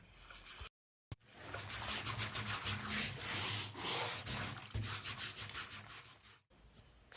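Scrubbing a woolly mammoth: a steady, rubbing brushing sound that swells and fades in repeated strokes, close and moderately loud, after a brief pause near the start.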